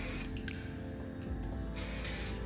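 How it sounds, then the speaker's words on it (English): Spray wax misted onto hair while styling a half-up, half-down hairstyle: a steady close hiss lasting a couple of seconds, with faint clicks of the nozzle near the start and end. "I'm just using my spray wax to keep everything nice and clean"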